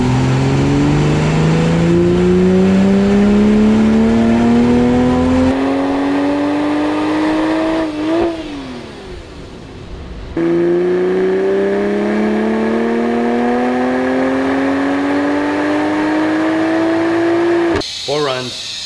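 A 2020 Toyota Supra A90 engine on a dyno pulls through sixth gear, its loud drone climbing steadily in pitch, dropping, then climbing again on a second long pull, with talk over it.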